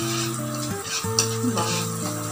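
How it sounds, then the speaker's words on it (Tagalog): Garlic sautés in margarine in a pan, a steady sizzle with stirring scrapes and a persistent tonal hum, close and loud, no talking. "Gisa-gisa muna natin yung bawang."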